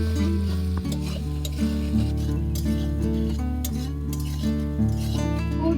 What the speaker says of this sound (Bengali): এই রসুনটা আমি আলুর সাথেই ভেজে নেব।